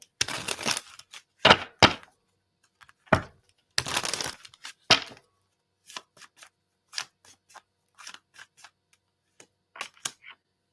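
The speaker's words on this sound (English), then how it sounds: "Let me shuffle." Tarot cards being shuffled by hand, a series of crisp riffling bursts and sharp snaps with short quiet gaps between them, close and fairly loud, then lighter scattered taps and flicks of the cards.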